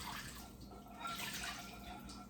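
A weak trickle of water runs from a kitchen tap with low water pressure, a faint, thin, continuous splashing patter with no talking.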